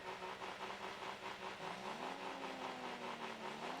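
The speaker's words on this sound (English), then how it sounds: "And hear the engines revving." Car engines revving in the rocket-car soccer video game Rocket League, a steady mid-pitched engine drone with a rising whine, continuous and loud throughout.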